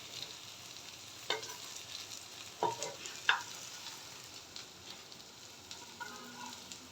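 Pointed gourd and rui fish belly fritters frying in a pan, a soft steady sizzle with a few scrapes and clinks of a utensil stirring, heard alone at low level.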